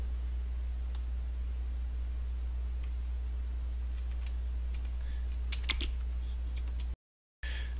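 Fast, irregular typing on a computer keyboard, with soft key clicks close up over a steady background hiss, a brief flurry of sharper taps near the end before a sudden cutout.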